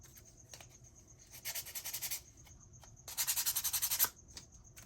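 Hand sanding a crackle-painted chicken decoration, two bursts of quick, rhythmic scratchy rubbing strokes separated by quiet pauses, close and fairly soft.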